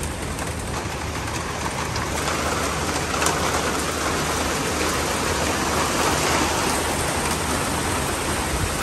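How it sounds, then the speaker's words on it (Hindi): Heavy rain pours steadily, a dense continuous hiss with no voices, unbroken from start to finish. "क्या जबरदस्त बारिश हो रही है।"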